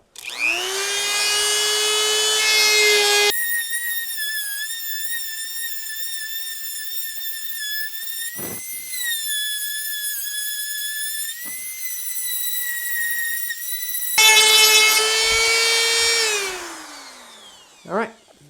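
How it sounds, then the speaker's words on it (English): A sanding disc spins up with a high-pitched whine and runs loudly with a steady tonal scream, dropping briefly mid-way before winding down, during a boat trolling motor install. "Sanding disc, probably going to get pretty loud"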